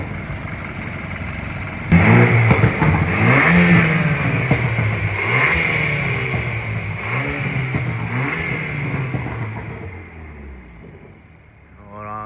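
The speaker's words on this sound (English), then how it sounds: "Keston, rev the engine" A BMW 328i fitted with a GFB diverter valve revs hard after a short idle, rising and falling in several throttle blips before settling back down, with people talking nearby.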